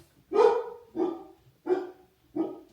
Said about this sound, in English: That is my dog. He has a lot of opinions.